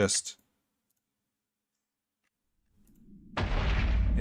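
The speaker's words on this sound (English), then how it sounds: "Those bangs you'll hear would be little meteors dropping on the planet." Meteors hitting a planet in a space game: a sharp bang at the start, then silence, then a rising rumble and a loud sustained crash near the end.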